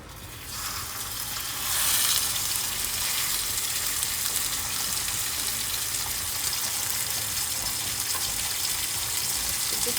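Pork tenderloin sears in smoking hot olive oil, a loud burst of sizzling as the meat drops into the pan, settling into steady close hissing and spitting.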